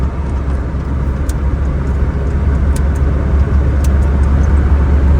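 A 1996 Honda Civic drives through a long tunnel on the Hazara Motorway, a loud steady engine and road roar booming inside the car, with a few faint high clicks.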